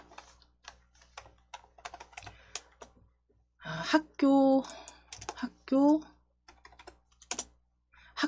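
Rapid key taps on a computer keyboard as a word is typed into a coding program search box, light clicking bursts woven between stretches of nearby speech.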